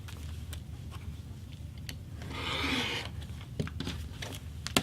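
Quilt fabric is cut on a cutting table, with a brief rasping rotary-cutter stroke in the middle and a few scattered clicks and taps of handling, quiet and close, no talking.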